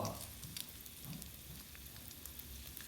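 Sweet fish frying in a small amount of oil over low heat gives a soft, steady, close sizzle with faint crackles, no voices.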